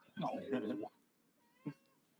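A house cat lets out one long, drawn-out meow followed by a brief, sharper second meow, close and clear against a quiet room.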